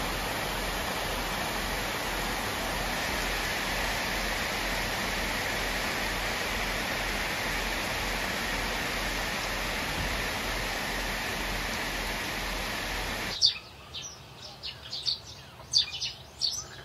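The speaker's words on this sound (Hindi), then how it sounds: "बाहर इतनी तेज बारिश हो रही है" Heavy rain falls outside in a steady, dense wash of noise for most of the stretch, then cuts away to quieter surroundings with faint bird chirps.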